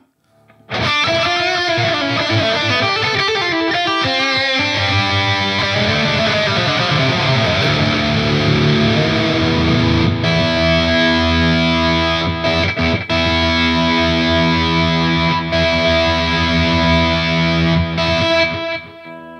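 A loud, heavily distorted electric guitar rings out in sustained chords, thick and buzzy, playing alone.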